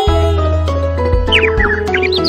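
A cartoon bird chirps in a Hindi children's rhyme, with quick high tweets rising over bouncy music with steady beats. The chirps are bright and loud near the end, and there is no talking.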